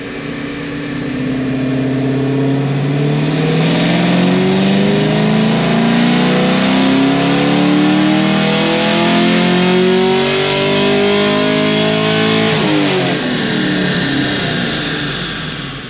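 Loud car engine revving hard on a dyno, its pitch climbing steadily through one long pull before dropping off near the end, with no talking.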